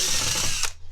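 A power drill whirs loudly and close for under a second, then cuts off abruptly into quiet, while repairing an old vintage kids' stroller.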